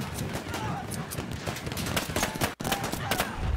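Rapid gunfire from a first-person shooter video game crackles in dense bursts across the whole stretch, mixed with other game noise as players talk over it.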